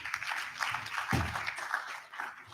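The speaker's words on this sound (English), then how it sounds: "Well, I think we should give him another round of applause." Audience applause at an African international housing show session, a steady dense patter of many hands clapping filling a large hall, with a brief low thump partway through.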